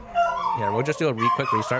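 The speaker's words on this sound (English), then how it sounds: "I apologize for the dogs." Several household dogs yip and bark close by, mixed under someone talking throughout the short stretch.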